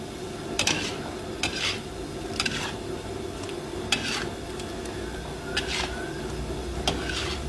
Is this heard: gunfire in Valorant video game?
no